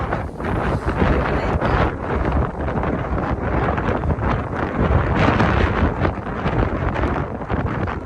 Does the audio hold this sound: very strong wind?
yes